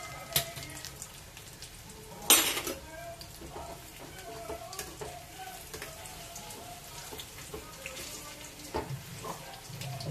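Chana dal roasting in a pan gives a faint, continuous crackle and light sizzle, close by, with a few sharper scrapes and one brief louder rustle partway through.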